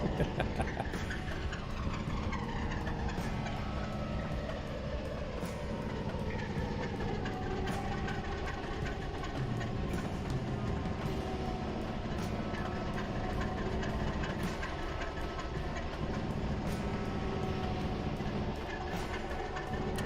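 Locomotive engines on a model railroad sit idling, giving a continuous loud mechanical drone and rumble that holds steady without pause.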